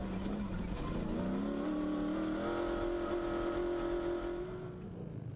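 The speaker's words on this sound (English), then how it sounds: "And overtaking Willem Vos and Werner Weiss in their BMW X3." Rally cars race in the Vryburg 450, one overtaking a BMW X3, their engines roaring loud and steady with rising revs before easing slightly at the end; no voices.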